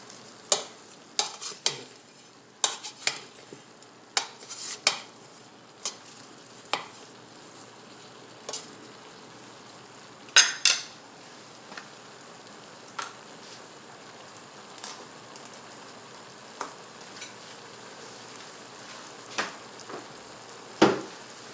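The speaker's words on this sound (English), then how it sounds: "This also gives the garlic a chance to lightly sauté without caramelizing." Garlic and green onion sauté gently in a pan over medium heat, giving a quiet, soft sizzle with scattered sharp clicks and scrapes of stirring, close and sparse, with no talking.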